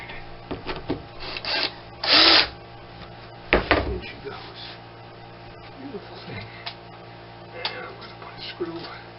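A power drill drives quarter-inch sheetrock screws into wood where the cleats sit on a model railroad classification yard benchwork; two loud whirring bursts stand out near, with light handling clicks and someone talking around them.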